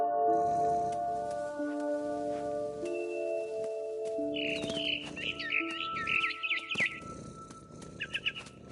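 Bird chirps sound in the video game What Remains of Edith Finch, a quick run of bright twittering calls midway and again near the end, over sustained musical tones and low rustling.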